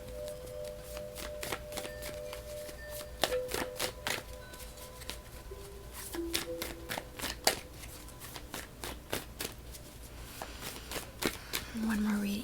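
A deck of tarot cards is shuffled and cards are drawn, producing a rapid series of crisp riffling snaps and flicks close by, with a person talking over parts of it.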